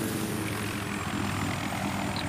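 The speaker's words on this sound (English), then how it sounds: "in order to keep the helicopter moving forwards" Helicopter rotor and engine drone from Battlefield 3, a steady loud whirring hum with no breaks, alone and without voices.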